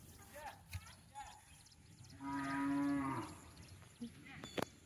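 A calf gives one sustained moo lasting about a second, fairly clear against a quiet rural background, with faint voices and small knocks around it.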